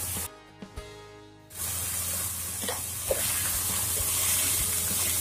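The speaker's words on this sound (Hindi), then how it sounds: "प्याज के साथ भी हम 2 मिनट फ्राई करेंगे।" Chopped onions hiss and sizzle as they hit hot oil with cooked minced keema, a steady close frying crackle that swells after a brief quieter start.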